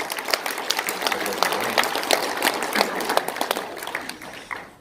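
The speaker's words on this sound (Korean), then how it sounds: "우리 김은구 대표께 우리 박수 좀 부탁드리겠습니다" An audience at a panel discussion at a Seoul press center claps in a dense, steady patter that fades slightly toward the end.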